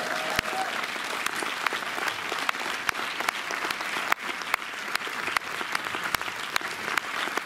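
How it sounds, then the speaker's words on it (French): Audience applause in the Méliès cinema in Montreuil, a steady dense clapping from a full house sustained evenly throughout with sharp individual claps standing out, no voices over it. "ça mérite d'ailleurs une deuxième salve d'applaudissements"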